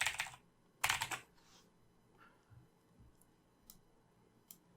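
Typing on a computer keyboard in Microsoft Word, a couple of clustered close key clatters at the start, then sparse light taps and clicks in a quiet room.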